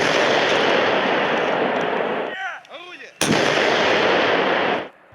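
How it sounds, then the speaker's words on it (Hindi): Artillery cannons fire shells during a Russian military drill with Belarus in snowy terrain, a sustained roaring barrage cut by a sudden loud blast midway, then ending abruptly. "तोपों से निकले गोलों की आवाज ने सन्नाटे में उथल पुथल मचा दी।"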